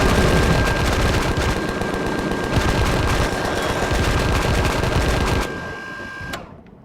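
Sustained rapid automatic gunfire in the Empyrion Galactic Survival game during a night raid on a base, loud and continuous for several seconds before cutting off, with a steady tone beneath.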